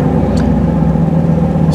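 A 1985 Camaro's 305 (5.0-liter) tuned port injection V8 idles in a steady, low rumble without change, close by and fairly loud, with no voices over it.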